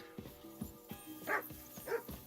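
Dog barking in the medieval game Kingdom Come: Deliverance II, several short barks and yips over a steady background of game ambience and music, moderately close.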